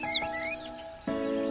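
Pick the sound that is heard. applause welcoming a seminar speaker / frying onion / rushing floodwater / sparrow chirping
sparrow chirping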